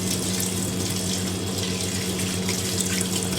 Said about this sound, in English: I'll fill that up with water first before I throw the conditioner in.